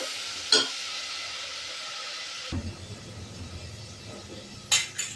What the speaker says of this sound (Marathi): कांदा तेलात चांगला भाजू द्यायचा